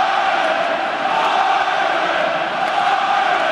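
Loud, steady roar of a large rugby crowd at an international Test between New Zealand and Ireland, a dense continuous wall of cheering and chanting with no break for the whole stretch.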